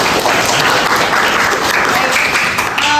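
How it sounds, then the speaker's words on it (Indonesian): Loud, dense clapping from a classroom full of students after a group presentation, steady for the whole stretch, with a voice faintly audible beneath it. "kita beri tepuk tangan dulu untuk kelompok yang sudah selesai presentasi"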